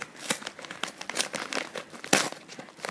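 A gift package from a craft swap, sealed with decorative washi tape, is torn open by hand without scissors: close, busy crinkling and sharp tearing bursts of paper and wrap in quick, uneven succession.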